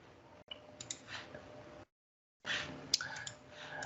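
Quick, light computer keyboard clicks tapped out in two short bursts with a brief gap between, close and fairly quiet.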